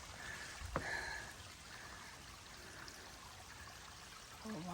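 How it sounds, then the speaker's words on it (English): Steady rushing water from a waterfall beside the Appalachian Trail fills the whole clip, a constant broadband roar, with one brief knock near the start. "Waterfall right there."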